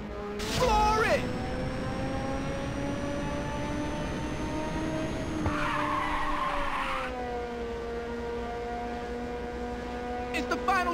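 Racing car in the Ridge Racer 2 video game revving hard and accelerating with a rising engine whine, a tire skid squealing mid-run, while a voice talks over the action.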